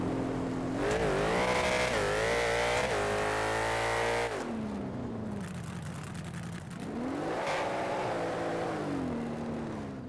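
A Dodge Ram races in a video game drag race, its engine revving hard through rising gear pulls, dropping sharply at a shift, then climbing again, loud and close with no voices.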